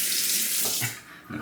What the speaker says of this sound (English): it looks like it needs a little bit more water, so I'm gonna add some more on the brush